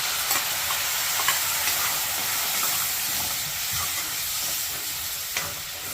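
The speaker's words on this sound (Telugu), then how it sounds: "హోల్ గరం మసాలా వేసుకోవాలి, కొంచెం పసుపు, ఈ టమాటా ప్యూరీ ఉంది కదా నెక్స్ట్ పట్టుకుంది అది వేసేయాలి." Tomato puree with whole garam masala and turmeric fries in hot oil for a paneer curry, a close, continuous hissing sizzle with occasional stirring and no talk.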